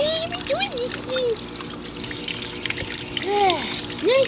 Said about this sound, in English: It's a shower now.